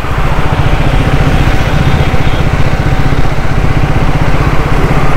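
A Triumph Speed 400 motorcycle engine chugs steadily at low revs in fourth gear, a loud close rhythmic thrum with no pauses.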